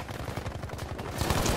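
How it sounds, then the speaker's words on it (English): Gunfire in the video game Battlefield 5 rattles in a rapid automatic burst with dense, repeated shots, loud and continuous for a moment. "just gunfire, just hailing down on my position"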